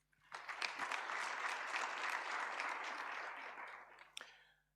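A conference audience at the opening plenary of the Better Air Quality Conference breaks into steady, sustained applause. It swells quickly, holds for about four seconds, then fades with a few last claps.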